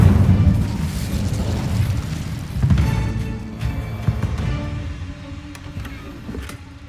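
An Incendio fire spell in a wizard video game goes off with a heavy, booming blast that rumbles low and then fades over several seconds, with faint crackles trailing in the decay.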